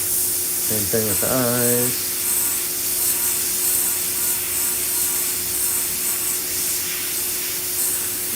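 An airbrush sprays paint onto a skull stencil with a continuous soft hiss close by, while someone speaks briefly near the start.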